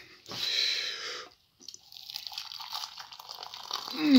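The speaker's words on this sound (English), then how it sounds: "Let's brew some coffee." Water for brewing coffee hisses briefly, falls quiet, then turns into close, uneven dripping and trickling that builds slightly toward the end.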